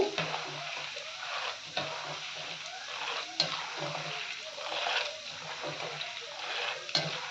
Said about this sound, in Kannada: ಕೆಂಪುಗಾಗೋವರೆಗೂ ಫ್ರೈ ಮಾಡ್ಕೊಳ್ಳೋಣ ಎಣ್ಣೆ ಕಾದಿರೋದ್ರಿಂದ ಇಷ್ಟೊಂದು ಎರಡು ಮೂರು ನಿಮಿಷ ಆದರೆ ಸಾಕು